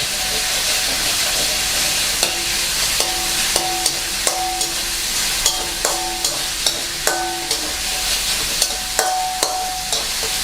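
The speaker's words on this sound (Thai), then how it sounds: "เจียวให้กระเทียมหอมกันครับ" Garlic and fermented pork (naem) fry steadily in a pan for Thai fried rice, a dense continuous sizzle with scattered pops and a few clinks of a utensil stirring against the pan, close and loud with no talking.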